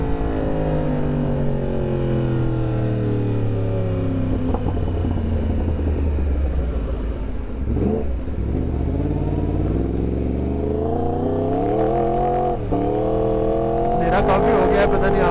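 A Yamaha R1 superbike with a crossplane inline-four engine rides on city roads, revving up and down through gears with rising and falling tones, close and loud, while a rider talks over it throughout.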